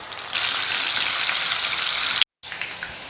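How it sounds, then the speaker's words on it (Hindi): Half a cup of oil heating in a frying pan for sliced onions, a loud steady sizzle that starts abruptly, holds evenly, cuts out for a moment near the end, then resumes. "फ्राइंग पैन में मैंने आधी प्याली ऑयल डाल के गरम करने के लिए रख दिया है।"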